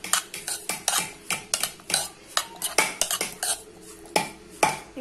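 Spoon clinking and scraping against a bowl while onions, tomato and coriander are mixed, a quick irregular series of sharp metallic taps and scrapes close by.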